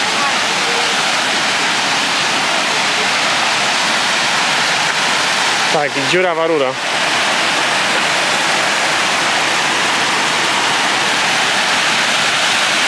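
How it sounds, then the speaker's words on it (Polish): Water at Szklarka Waterfall rushes in a loud, steady broadband roar throughout, and a voice speaks briefly partway through over the noise. "Tutaj chyba właśnie jest wodospad, tylko z góry niespecjalnie dużo widać."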